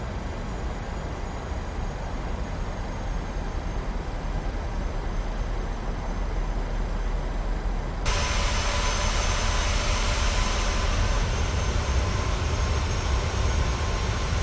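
An airplane's engines drone steadily in the cabin on landing approach to KSYR, a constant broadband roar that grows slightly louder and brighter partway through.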